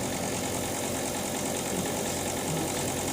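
Ventilation fan running on a LiFePO4 battery build, a steady, even whirring hum that holds constant throughout with no talking.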